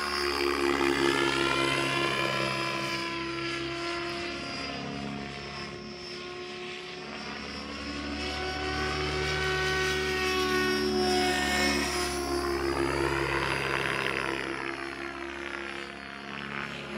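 A radio-controlled model airplane engine droning through a stall turn, a steady buzzing propeller tone that rises and falls in pitch as the plane climbs and swings around, fairly close and continuous.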